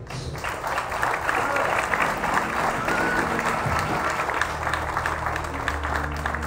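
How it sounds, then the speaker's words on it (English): Congregation at a homegoing funeral service clapping their hands, a dense, sustained wash of applause held steady throughout with low musical tones sounding beneath it. "Clap your hands."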